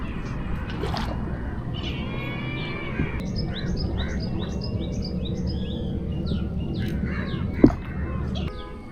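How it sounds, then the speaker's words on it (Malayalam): A kite calls in a rapid series of high, thin whistled notes over steady low background noise, moderately distant, in the mangrove backwaters of Munroe Island, Kollam, Kerala. "ആദ്യമായിട്ടാണ് ഈ പരുന്തിന്റെ കരച്ചിൽ കേൾക്കുന്നത്."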